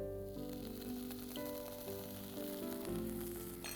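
Onion frying in a pan with ginger garlic paste just added, for Burmese Khow Suey, gives a steady, moderately quiet sizzle throughout, with a faint tonal background.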